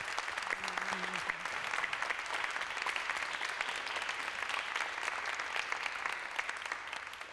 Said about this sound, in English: How about a round of applause for our two speakers and our moderator?